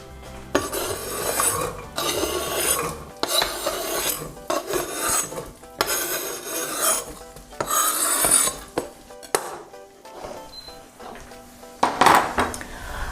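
Celery and other chopped vegetables tumbling into a pan for a vegetable and bean gumbo, a run of clattering, scraping bursts with metallic knocks of utensil on cookware, close and fairly loud, with brief pauses between.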